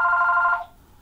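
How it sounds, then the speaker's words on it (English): A telephone rings with a single bright electronic trill lasting about half a second before cutting off, loud and close, with no speech. "sorry about that phone going off"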